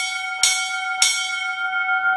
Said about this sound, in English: I forgot about the bells.